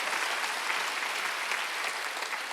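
A church congregation at a Sunday worship service claps together, a dense, even wash of applause holding steady from start to finish with no voices on top.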